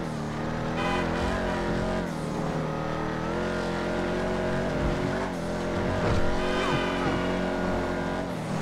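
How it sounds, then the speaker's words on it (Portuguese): Rough V8 engine of a Dominator GTX muscle car in GTA 5 Online, revving and shifting with rising and falling harmonic tones, steady and close throughout, with brief tire squeal and no talking. "Então você ouve aquele som do V8 áspero, né?"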